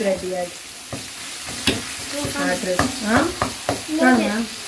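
Chicken curry with tomatoes sautéing in a pan, a steady close sizzle broken by repeated scraping and stirring strokes of a spoon against the pan.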